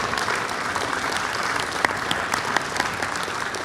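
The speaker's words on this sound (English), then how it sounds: "Let's give one more big round of applause for all the 4 award winners" A large World Culture Festival crowd applauds award winners with continuous, even clapping that holds steady throughout, a broad wash of hands with a few sharper claps standing out.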